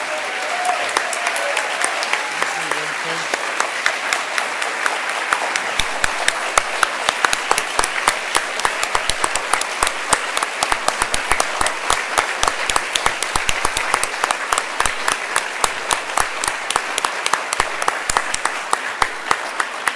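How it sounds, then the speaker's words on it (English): A book fair audience applauds National Book Award winners and finalists, building from scattered claps into loud, sustained applause, with individual sharp claps increasingly distinct toward the end. "one more round of applause for all of them, please"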